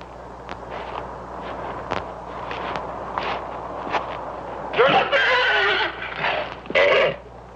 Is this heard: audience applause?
no